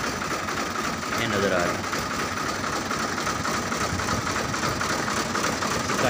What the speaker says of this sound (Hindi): साउंड तुम चैक कर सकते हो, आवाज़ ट्रैक्टर की।